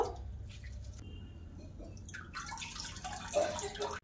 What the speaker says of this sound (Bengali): আলুগুলো কচলে কচলে ধুয়ে নেব